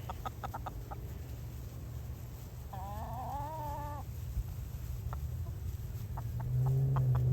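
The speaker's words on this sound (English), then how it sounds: "Rooster's not done with them yet." A rooster crows while chasing hens that cluck and squawk amid a steady low rumble; scattered short calls, moderately faint, no voices.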